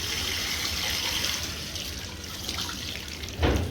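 Running tap water splashes steadily over fish being washed at a sink, a constant close hiss with a brief louder gush near the end.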